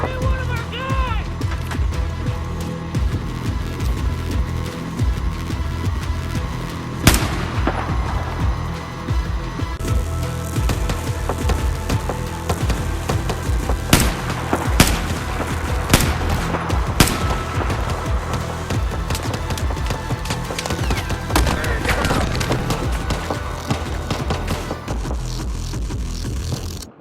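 Gunfire in the video game Battlefield 4 crackles through a continuous noisy battle mix, with scattered sharp shots and thuds over a busy background while a player talks throughout.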